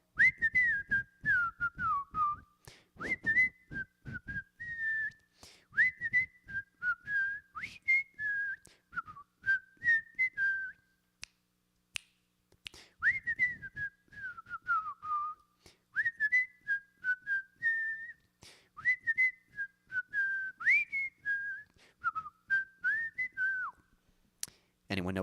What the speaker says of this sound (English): see if you can learn how to whistle.